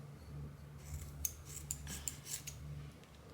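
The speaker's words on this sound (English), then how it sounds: "So I'm about to just pull that out, cut at the root." Scissors snip through braids at the root in several quick, crisp cuts clustered close together, near and fairly quiet with soft rubbing of hair between them, no talking.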